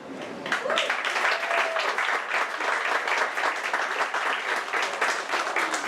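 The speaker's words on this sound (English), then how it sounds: "Can you give a special person a round of applause?" Warm audience applause for a guest in a small indoor gathering, steady dense clapping lasting throughout at an even, moderately loud level with no voices on top.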